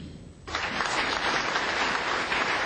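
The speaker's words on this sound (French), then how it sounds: "Il y a de quoi l'applaudir." Crowd applause erupts at a political party meeting, starting abruptly after a short murmur and continuing as steady, dense clapping throughout.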